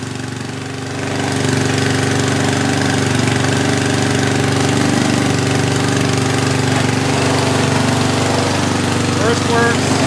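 1970s Ariens snowblower with its engine running in first gear: a loud, steady, close mechanical drone with a constant rumbling hum that rises slightly after the first second and holds without a break.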